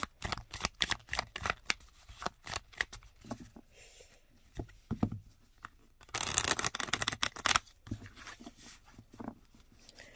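A deck of oracle cards is shuffled by hand in close, papery riffling bursts, with a longer, denser flurry near the end and quiet gaps between.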